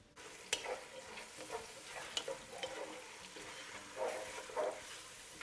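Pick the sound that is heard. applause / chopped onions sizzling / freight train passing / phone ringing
chopped onions sizzling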